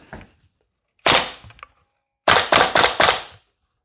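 A VFC AK105 gas blowback airsoft rifle fires close by, with one sharp report followed by a quick string of about five snappy, cracking shots, then silence.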